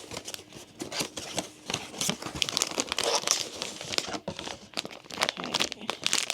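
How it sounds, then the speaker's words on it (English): Crinkling and tearing of a Miniso Disney Winnie the Pooh blind box's packaging during opening, close-up rustling with sharp rips and crumples in an irregular rhythm. "So let's go ahead and open the 3 boxes"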